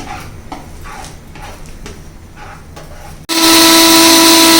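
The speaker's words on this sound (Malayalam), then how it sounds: "മുളകും മല്ലിയും വറുത്തത് ആദ്യം ഒന്ന് പൊടിക്കണം" A mixer grinder grinds roasted chillies and coriander. After a few seconds of light knocks and clicks, the motor starts abruptly into a loud, steady whirring whine.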